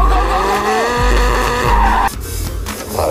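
Tires of a Mazda RX-7 with a rotary engine squeal loudly while drifting, a continuous screech under the engine note that cuts off abruptly, leaving a quieter, rougher engine sound at the end.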